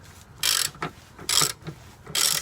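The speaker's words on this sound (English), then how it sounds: "our dealer service manual says to tighten these bolts to 50 foot-pounds" A ratchet tightening the transmission mount bolts on a Jeep ZJ with the 5.2L engine and 46RH transmission, three bursts of rapid close clicking separated by short pauses.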